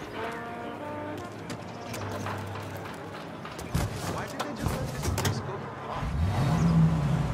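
Car driving in the video game Mafia: Definitive Edition, a steady engine hum with light clattering and a rising rev toward the end, heard beneath occasional conversation between passenger and driver.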